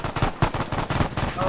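Rapid bursts of automatic gunfire and single shots in the Arma 3 video game, loud and close, with sharp cracks repeating irregularly over a continuous rumble of battle noise.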